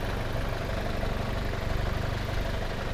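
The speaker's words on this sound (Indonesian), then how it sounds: "Dan untuk mesin pun masih kering, tidak ada yang rembes, suaranya masih langsam, garing" Steady, smooth idle of a used Innova V automatic diesel car engine, heard close and continuous with an even low rumble and no talking.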